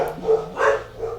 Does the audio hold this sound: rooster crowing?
no